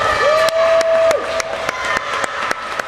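Spectators at a high school swim meet applaud a finishing swimmer, moderate steady clapping in a reverberant pool hall with a sustained whistle-like tone early on and sharp periodic knocks.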